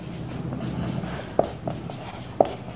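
Chalk or marker scratching across a classroom board, soft rubbing strokes punctuated by two sharp taps, faint and close, with a quiet room hum underneath.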